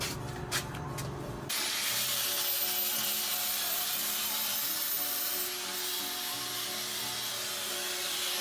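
Sanding a part for a chassis-mount rear wing on a Nissan 370Z; a few short scrapes give way to a steady, close, hissing rasp that continues without talk.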